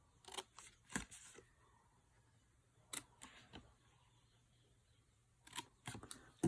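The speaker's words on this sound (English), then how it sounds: "I'm cutting all the score lines up to the next score line." Scissors cut along score lines on a paper panel for a Christmas tag holder, giving a series of short, faint snipping clusters in bursts with pauses between them.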